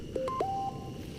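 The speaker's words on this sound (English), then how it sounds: "That's just me phone." A mobile phone plays a short run of electronic tones at a wild camp on the Scottish east coast, a few quick pure beeps then one held note, clear and close over faint background noise.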